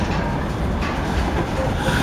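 A covered freight train rolls past on the rails, a dense steady rumble with faint clatter that holds loud and unbroken from start to end.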